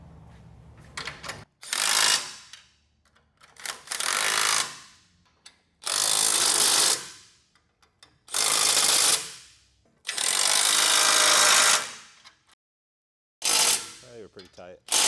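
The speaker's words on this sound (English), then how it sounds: "Go ahead and tighten these all the way down with an 18 millimeter." Bolts on a 2023-or-later Ford F250/F350 front bumper mount being tightened with an 18 mm wrench, heard as several loud, repeated ratcheting bursts of a second or so each, separated by short pauses.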